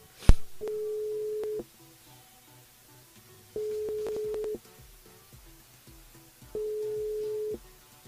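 Telephone busy signal heard while dialing a caller into a live radio show, three steady, even beeps separated by silences, each about a second long, preceded by a quick click.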